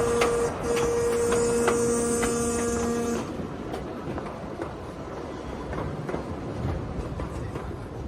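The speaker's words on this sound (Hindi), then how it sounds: "बरमला गांव में ये ट्रेन फिर एक ऊंचे पुल से होकर भी गुजरती है" A train crosses a high bridge near Barmala village in Punjab, its steady rolling rumble close and loud, with a sustained tonal whine riding over it for the first three seconds before fading to plain wheel noise.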